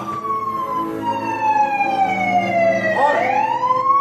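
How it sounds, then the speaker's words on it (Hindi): A police siren wails steadily, its pitch sliding down and then sweeping back up, loud and fairly close over low traffic rumble. "तभी पुलिस का सायरन बजा"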